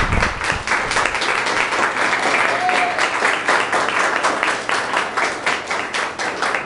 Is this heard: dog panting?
no